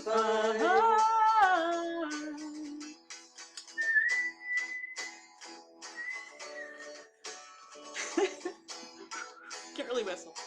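Someone whistles a wavering tune close by, with breathy, uneven notes and short pauses between phrases.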